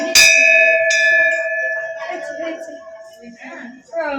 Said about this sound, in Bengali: তুমি ঘন্টা ধরতে পারবে? ধরো ধরো ধরো, বাজাও বাজাও বাজাও